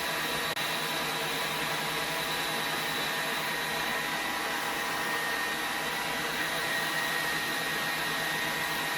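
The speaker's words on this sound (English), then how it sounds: "So now I've been sitting in the dryer for like at least 2 minutes" A hooded hair dryer runs with a steady, even whirring hum and broadband airflow noise, close and continuous throughout with no talking.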